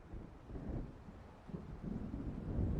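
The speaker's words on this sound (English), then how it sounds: "It seems there's a storm coming." Low, rumbling thunder of an approaching storm rolls continuously in the video game Alan Wake, blended with wind noise and growing louder toward the end.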